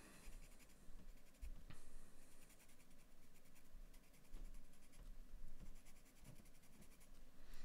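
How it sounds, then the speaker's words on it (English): A 2H pencil shading a mountain drawing on paper, a soft continuous scratching with steady back-and-forth strokes, faint and close with no talking. "grab the 2H pencil and darken things up a little bit"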